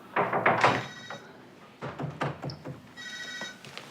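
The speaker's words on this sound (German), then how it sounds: "Geh an dein verdammtes Telefon, du Mistkerl." A telephone ringing indoors in two bursts of bright electronic trilling separated by a pause, with soft thumps and knocks around it and no talking.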